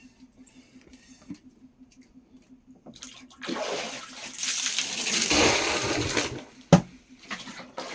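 Water pours and splashes into a clogged toilet drain pipe being cleared with a pump, a broad rushing wash building from quiet after a few seconds, with a sharp splash near the end.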